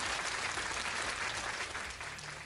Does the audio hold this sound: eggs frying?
no